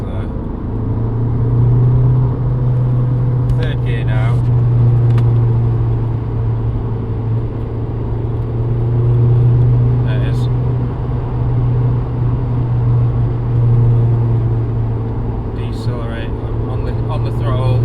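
Steady low engine hum with a droning vibration from a 2007 VW Golf GT TDI with a BKD diesel, held at about 3700 rpm, continuous and fairly loud throughout, with faint occasional clicks above it.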